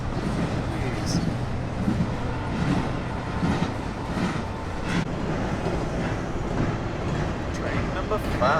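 A train rumbles steadily past, a constant heavy roar with faint rhythmic clatter throughout, close and loud.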